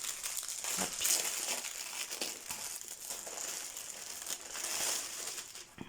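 The crinkly plastic packaging of an embroidery kit is handled and opened up close, with continuous rustling and crackling in uneven bursts.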